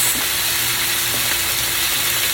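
Onions and carrots fry in a hot pan with a dusting of cayenne, giving a steady, close sizzle and crackle that runs without a break and with no voices over it.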